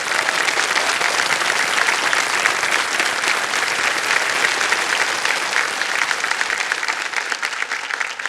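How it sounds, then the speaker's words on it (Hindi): Studio audience on the game show Kaun Banega Crorepati Season 16 breaking into loud, dense applause that holds steady and close for several seconds, with no talking over it. "तालियां बज जाए इनके लिए एक बार फिर।"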